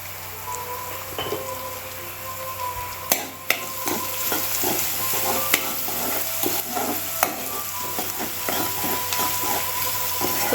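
Tofu stir-fry sauce with salt sautéing in a pan, a steady close sizzle and hiss broken by frequent scraping stir strokes and a few sharp clinks, with no talking.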